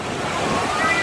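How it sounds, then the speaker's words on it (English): Water pours from the top of a volcano at a water park, producing a steady, dense rush of splashing noise with wind buffeting the microphone throughout. "That's all from the volcano. All the water flowing from the top."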